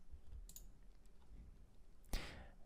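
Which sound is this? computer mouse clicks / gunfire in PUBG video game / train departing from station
computer mouse clicks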